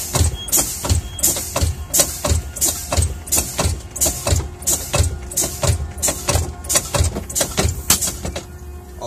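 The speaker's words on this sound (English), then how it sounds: "All I'm going to do for this test is keep pushing my service brake until both of these valves pop out" Truck air brake system as the service brake pedal is pumped over and over, each press giving a sharp hiss of released air in a steady rhythm of about fifteen bursts, loud and close.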